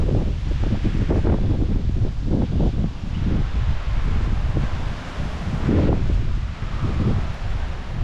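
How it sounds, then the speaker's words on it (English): Strong wind gusts roar past the microphone ahead of Hurricane Ian in Panama City, Florida, a loud buffeting rush that swells and eases in waves with rustling underneath. "But yeah, this is kind of the wind gusts we're getting."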